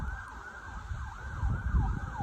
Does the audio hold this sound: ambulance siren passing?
yes